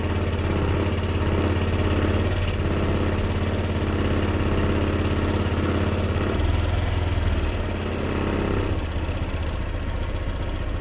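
A Honda Click 125 scooter engine runs steadily at idle, loud and close, with a constant low droning hum and no talking.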